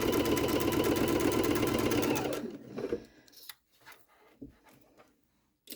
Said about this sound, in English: So I sewed 2 stitches, the fabric is now stuck together